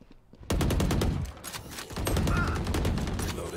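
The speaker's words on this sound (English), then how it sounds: "He shot me through the smoke completely." Rapid automatic gunfire in the competitive shooter game Valorant, a dense loud burst of shots that starts abruptly and keeps rattling with only brief dips.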